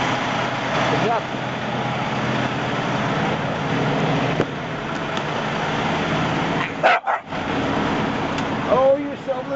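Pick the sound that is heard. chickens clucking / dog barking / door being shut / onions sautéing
dog barking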